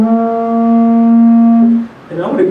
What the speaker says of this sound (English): sometimes when you play didgeridoo, you can do what's called an overtone or a trumpet toot